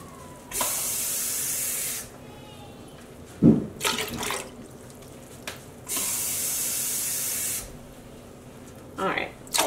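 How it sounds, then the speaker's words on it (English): Water is poured into a dye pot in two long, even rushing pours with a brief clatter of handling between them, close by and moderately loud. "Alright, added about 4 cupfuls of water to here."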